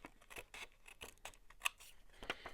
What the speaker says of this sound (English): So I'm just going to cut that all the way off.